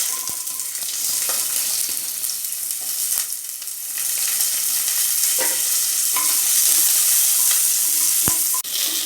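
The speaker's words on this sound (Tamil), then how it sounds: "எண்ணெய் ஓரளவுக்கு சூடானதும் உரிச்சு வச்சுருக்கிற வெங்காயத்தை நம்ம கடாயில் போடணுங்க" Peeled onions dropped into hot oil in a kadai give a loud, continuous frying hiss that swells and stays dense, with scattered spoon taps and clicks, close up and with no voice.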